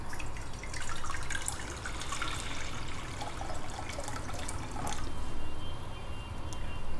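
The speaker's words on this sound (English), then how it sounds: "This is warm water." Warm water pours into a pot for boiling noodles, a steady close splashing rush of liquid that runs continuously with small surges and no talk.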